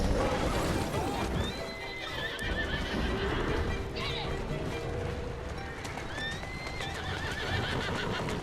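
A horse whinnies twice with rising, wavering calls amid clopping hooves and busy background noise in the game Assassin's Creed Syndicate, with voices talking over parts of it.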